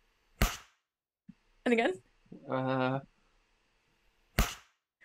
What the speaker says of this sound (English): It's just the clip part of a clipboard just being just thwacked like that.